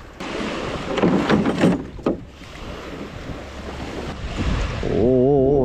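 A flooded rental rowboat is flipped over to drain, with broad sloshing and pouring water and gusty wind noise close to the microphone. A voice exclaims briefly at the end.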